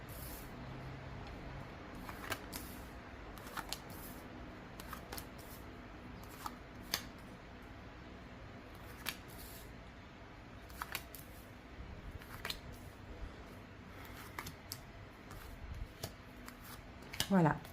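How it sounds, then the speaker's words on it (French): Tarot cards being shuffled and laid out on a surface, repeated soft close snaps and slaps of card stock at irregular intervals over a quiet background, with faint talk underneath. "On pose les 11 cartes."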